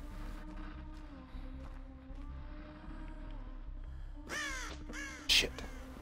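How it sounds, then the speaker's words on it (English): Crow caws in the Dead by Daylight video game ring out near and loud in a brief burst of several harsh calls, over a low, steady game ambience with no talk. "I do have a bird next to me that's constantly going off"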